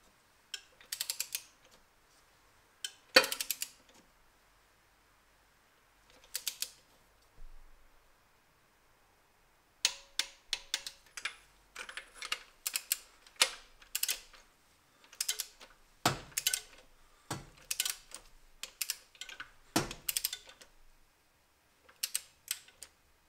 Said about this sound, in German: dann nehmen wir uns einen Drehmomentschlüssel und schrauben die Zündkerzen mit Drehmoment fest